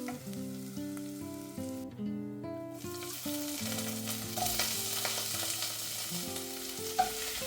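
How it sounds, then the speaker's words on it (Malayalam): Crushed ginger, garlic and green chilli frying in coconut oil, a steady broadband sizzle running the whole time beneath loud melodic background music, with a brief gap in the hiss near the start. "അപ്പോൾ അതിന് വേണ്ടിയിട്ട് വെളിച്ചെണ്ണ വെച്ചിട്ട് അതിലേക്ക് നമ്മൾ റെഡിയാക്കി വെച്ച ഇഞ്ചി, വെളുത്തുള്ളി, പച്ചമുളക് ചതച്ചതൊന്ന് ചേർത്ത് കൊടുക്കുക."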